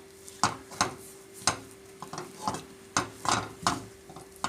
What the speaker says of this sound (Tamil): நல்லா கைவிடாமல் கிண்டிக்கோங்க